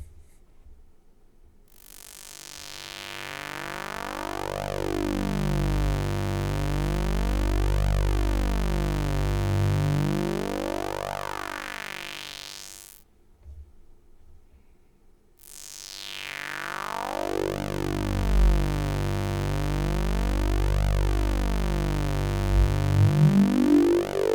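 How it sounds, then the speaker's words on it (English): A buzzy Manatee synthesizer tone passes through a sweeping high-pass filter, falling then rising in pitch, with a brief silent gap before a second sweep. "let's listen now to the high pass model"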